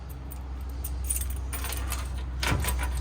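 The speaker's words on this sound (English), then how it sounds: "And there is 2 sets of keys for the unit." Two sets of keys for the unit of a used 2019 Coachmen Apex Nano 15X hybrid expandable RV jangle in a few brief metallic bursts, close and moderately loud over a steady low hum, with no talk.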